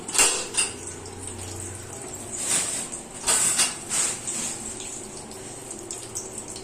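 Water is poured into a fish curry while it cooks, heard as a few short splashing, gurgling bursts close by, with faint clinks of pots and utensils between them.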